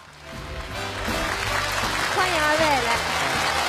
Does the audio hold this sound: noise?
no